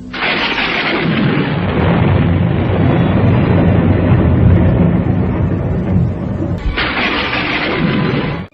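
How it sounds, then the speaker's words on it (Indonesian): Deep, rolling thunder rumbles continuously and loudly, with a brief dip before another heavy crack swells back in near the end. "Petir yang meledak dari mendung yang menebal"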